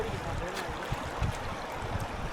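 A large river rushes by in a steady, broadband wash of flowing water, continuous and fairly close, with faint low thumps from the current.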